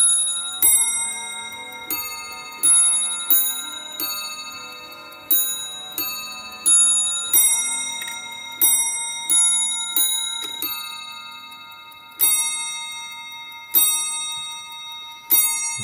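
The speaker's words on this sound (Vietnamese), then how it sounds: "Và mọi người nghe tròn giờ nè. Đây, quý vị bác xem cái phần nó đánh nhé." A Franz Hermle & Sohn table clock chimes the hour, with a steady series of a dozen clear ringing bell strikes spaced about a second and a half apart, each decaying into sustained overtones, close and alone.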